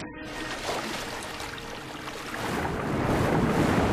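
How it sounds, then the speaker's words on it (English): A character swimming in water in the Darksiders 2 video game, a steady splashing, washing rush that swells louder toward the end, with no talk. "Get out of the water. Out of the pool, Death. Out of the pool. It's enough swimming"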